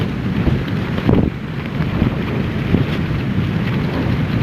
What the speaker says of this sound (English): See the wind blowing.